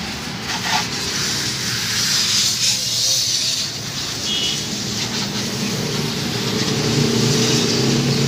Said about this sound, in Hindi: प्रेशर वाला पानी चलाने लगे अच्छा हाँ, ये भी पानी जा रहा है और ये बाइक धुल रही है